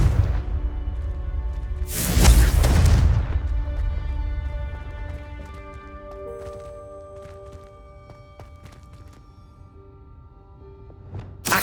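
A Confringo fire spell detonates in Hogwarts Legacy with one loud, booming blast that fades into quieter game ambience and sustained musical tones.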